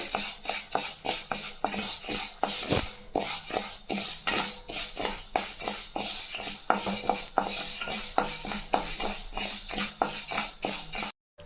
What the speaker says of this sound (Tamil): இந்த பயிரை நல்லா வறுத்துக்கலாங்க